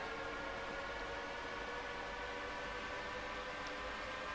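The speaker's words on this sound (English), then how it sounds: "This train's going." A train running at full power in the Train Sim World 2 game on the Wolfen–Bitterfeld route gives a steady, dense rumble and hiss that stays loud and unbroken throughout, with no talk over it.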